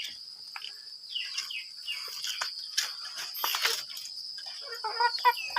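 Chickens cluck softly at a rural spot in Thailand or Laos, scattered calls at moderate distance over a steady chorus of crickets and insects, with no one talking.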